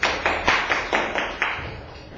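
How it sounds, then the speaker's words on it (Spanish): Classroom applause during a calculus class, heard as a short run of uneven, fairly close claps from a small group, with several sharper bursts that taper off quickly. "Un aplauso a su compañera."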